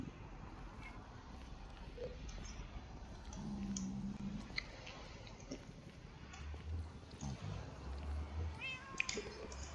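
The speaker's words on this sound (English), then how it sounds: "I just found a cat just stuck in another" A cat in Minecraft meowing in short, faint calls over a busy game background, with scattered thuds and clicks.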